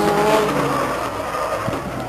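A Legends race car skids at Stockton 99 Speedway, a loud, close tire squeal and engine noise that fade over about two seconds.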